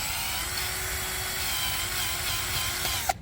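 A power drill boring an angled hole into a living acacia tree gives a steady, loud whirring drone that holds for several seconds and ends in a brief knock, with no voices.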